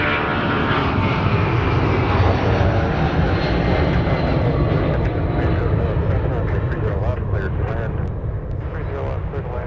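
Airliner taking off from runway 30 right at Minneapolis–St. Paul airport, a loud, steady jet engine roar filling the whole stretch and slowly easing toward the end.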